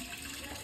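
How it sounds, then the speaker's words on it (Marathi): Steady running water while a clay pot is washed for a Dahi Handi festival, a continuous broadband rush with no talk, close and even throughout. "तर अशा तऱ्हेने आज आपण आता मडका धुवायला लावलाय"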